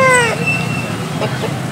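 At a Sunday poultry market in Nellore, a rooster lets out a short, loud crow at the start, followed by market bustle and faint clucking.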